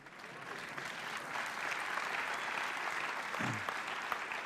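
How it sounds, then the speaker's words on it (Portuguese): An audience applauds steadily at a talk, a sustained, fairly faint patter of many hands clapping together for several seconds. "É um bom lugar para aplaudir."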